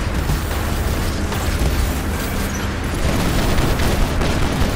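A space shot ability firing in the War Robots video game, a loud sustained blast of dense roaring noise with crackling bursts, holding steady throughout without pause.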